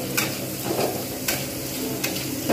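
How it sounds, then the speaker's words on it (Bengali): Chopped onions fry in hot oil in a pan for a Bengali kakrol-prawn dish, giving a steady close sizzle with a few brief stirring scrapes and no voices. "এইবার পেঁয়াজগুলোকে আমি ভালোভাবে ভেজে নেব।"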